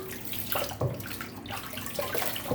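Running water flows from a tap at a sink while a man rinses his face during shaving off a two-week beard, a steady close splashing rush with brief louder splashes, no talking.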